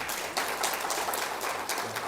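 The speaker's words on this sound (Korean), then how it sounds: "우리 박수로 환영하겠습니다" Applause rises from a church congregation during a Sunday worship service, welcoming a newly registered member; moderate, steady clapping with a few brief swells, fairly close and without talk over it.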